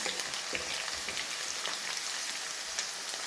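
Crushed garlic fries in hot oil in a pan for Kerala-style mango pickle, making a steady, close, crackling sizzle with fine popping throughout.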